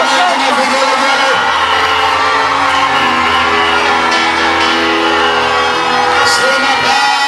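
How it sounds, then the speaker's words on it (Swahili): Church congregation at a Sunday service applauding and ululating loudly and continuously, with shouts and cheers layered over a dense crowd roar. "Kosa makofi yako na vigele."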